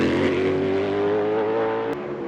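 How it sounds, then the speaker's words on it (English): Wayne Taylor Racing Acura prototype race car at Long Beach street circuit qualifying, a steady loud engine drone holding a high pitch as the car arrives, fairly close, with a brief sharp crack near the end. "here comes the first of the Acuras to the line for a sensible time"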